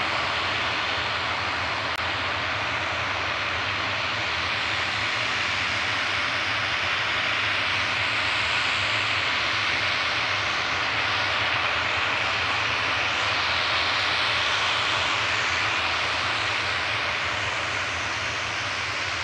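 An Aer Lingus ATR turboprop airliner operated by Emerald Airlines UK, bound for Belfast, drones steadily at Manchester Airport, a continuous broadband engine roar holding constant at moderate distance throughout with no talk.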